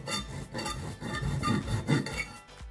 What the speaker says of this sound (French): La citronnelle crue, on la râpe très finement pour ne pas sentir ses fils.